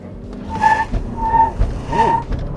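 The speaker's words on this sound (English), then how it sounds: "the wheels were slipping like crazy at the beginning there" A 2024 Toyota RAV4 Prime in hybrid sport mode launches hard from a standstill, its tires squealing and slipping in three drawn-out chirps over a rising engine and electric-motor whine, loud and close.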